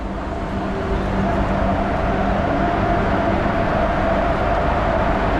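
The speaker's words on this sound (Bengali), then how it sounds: "এখন ঢুকছে প্ল্যাটফর্মে আর আজকে যে লোকোমোটিভটা আমাদের নিয়ে যাবে সেটা হচ্ছে ওয়াপ ফোর" The Ganadevta Express, hauled by a WAP-4 electric locomotive, rolls into a station platform with a steady, heavy rumble and low droning hum that stays even throughout.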